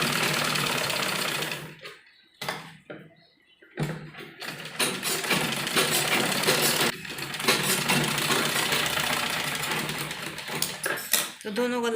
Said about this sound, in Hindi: इस तरह कपड़े को फोल्ड करते हुए कच्ची सिलाई लगाएंगे।